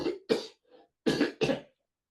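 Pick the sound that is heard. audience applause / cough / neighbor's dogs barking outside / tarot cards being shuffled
cough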